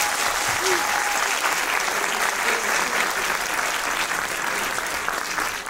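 An audience at a Turkish comedy awards show for the worst local TV series applauds in a dense, steady burst of clapping that fills the room and fades slightly at the end, with faint voices mixed in.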